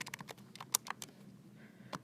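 Keys are tapped on a calculator in a quick run of separate, faint, close clicks, with a short gap before a couple more presses.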